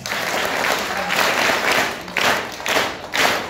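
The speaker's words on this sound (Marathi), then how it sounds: "जोरदार टाळ्या." A crowd at a school event claps loudly and steadily for several seconds, with the applause surging in a few waves.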